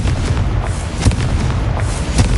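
Confringo spell explosion in a PS5 video game, a loud dense rumble with repeated booming bursts over a thick low roar, no talk.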